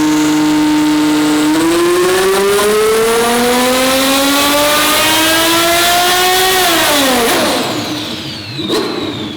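A twin-turbo Ferrari F12 on a dyno revs up in one long, loud, close pull, the engine note climbing steadily before a sharp lift-off, then a brief blip and crackle as it settles.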